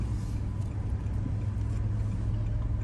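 Inside a moving car in Japan, a low, steady engine and road drone hums continuously at moderate level with no one talking.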